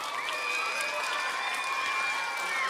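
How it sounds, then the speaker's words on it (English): Continuous applause and some cheering from a room of schoolchildren at an arts-in-education astronomy presentation, a lively, even wash of clapping with faint shouts mixed in. "Give all these helpers a big round of applause"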